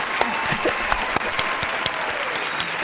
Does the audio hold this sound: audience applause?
yes